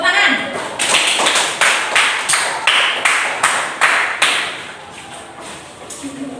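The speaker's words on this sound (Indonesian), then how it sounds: "Kasih tepuk tangan" A classroom of pupils claps in unison, about nine loud, evenly spaced group claps that trail off into scattered softer claps and a voice.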